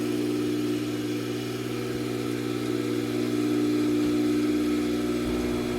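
A Hayward swimming pool pump motor runs with a steady, constant electric hum and faint mechanical buzz, close and unchanging throughout, with no voices.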